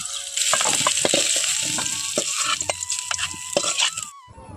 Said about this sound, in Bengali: শুধুমাত্র তেলের মধ্যে আলুটা পরিষ্কার করে ধুয়ে নিয়ে ভেজে নিচ্ছি।